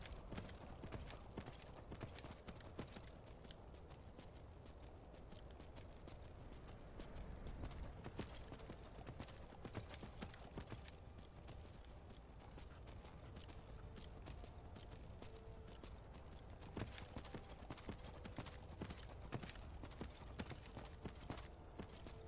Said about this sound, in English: You're an undead horse. Why do you have stamina?